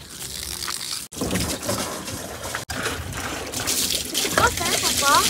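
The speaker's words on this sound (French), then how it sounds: "s'il te plaît, allume un peu le robinet." Water runs from a tap in a steady, splashing trickle, close and fairly loud, with brief breaks in the flow and voices chattering over it.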